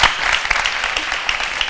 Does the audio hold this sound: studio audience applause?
yes